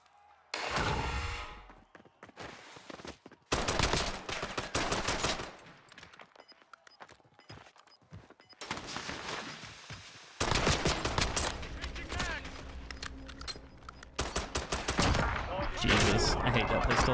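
Pistol gunfire in Call of Duty Warzone, loud bursts of repeated shots in clusters with brief pauses between, mixed with other game noise and a voice talking over parts of it.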